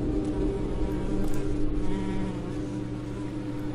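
A swarm of flies in the horror game Detention drones in a continuous, moderately loud buzz that holds steady throughout, with a low hum underneath.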